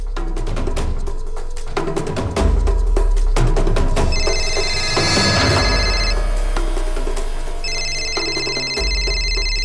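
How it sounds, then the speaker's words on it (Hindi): A telephone rings in repeated electronic bursts over a loud, busy dramatic music bed, the rings coming in two distinct spells. "किसका फोन है?"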